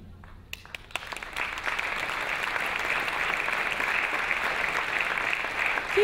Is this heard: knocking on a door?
no